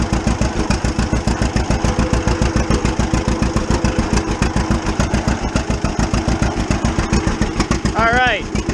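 Loud, close two-cylinder engine of a hand-clutch vehicle backing up in reverse, with a steady rapid chugging pulse throughout and a brief rising whine near the end.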